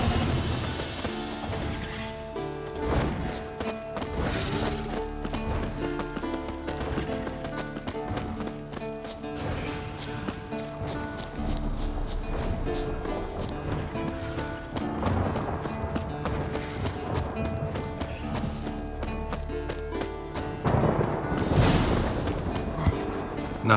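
Horse hooves clip-clop steadily over layered The Witcher 3: Wild Hunt game music and effects, with occasional crashes and a louder burst near the end.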